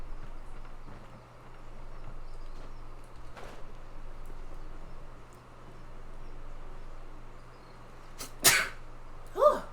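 Two sharp sneezes a second apart break through quiet room background near the end, close and fairly loud against the low hum.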